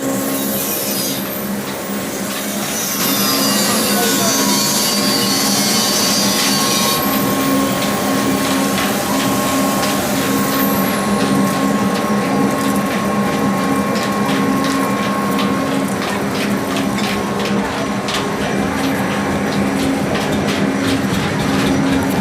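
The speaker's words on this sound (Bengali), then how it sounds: "এই মেশিনটি আপনারা ফাউন্ডেশন ছাড়াই চালাইতে পারবেন ফিক্সড একটা মোটরে দেখতে পাচ্ছেন এখানে আমার ওয়ার্কশপের সামনে ফ্লোরে রাইখে চালানো হচ্ছে" Commercial mustard oil expeller machine driven by a fixed motor, set on the floor without a foundation in front of a workshop, makes a loud, continuous mechanical grinding and rumbling with a steady hum and rhythmic rattling throughout.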